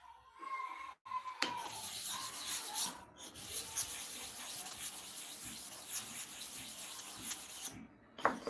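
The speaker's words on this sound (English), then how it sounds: "Let us sharpen the bottom clipper blade." A hair clipper's bottom blade being sharpened by hand: faint, steady rasping and rubbing strokes of metal on an abrasive surface, with a couple of brief breaks.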